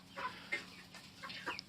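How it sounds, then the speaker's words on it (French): Faverolles rooster and hens clucking nearby, a few short, soft clucks and murmurs in quick succession, fairly quiet over a low background hum. "Donc un coq Favrol"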